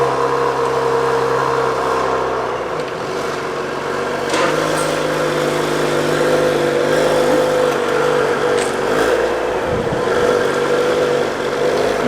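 An Audi RS7 idles steadily with its exhaust valve closed, a low, even engine hum holding for the whole stretch with a brief rise in rumble near the middle and no talk over it.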